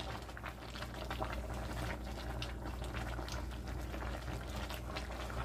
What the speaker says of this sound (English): We're boiling.